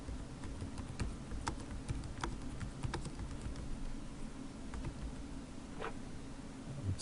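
Light, irregular clicks from a computer keyboard as a short welcome message is typed, with scattered soft keystrokes over a quiet background hum and no voices.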